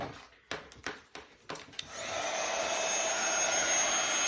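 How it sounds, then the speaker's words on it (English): A heat gun blasts hot air over embossing powder on a snowflake greeting card, a steady broadband roar starting after a few short taps and knocks, then holding loud and even. "Then going to grab our heat gun and we're going to heat this up."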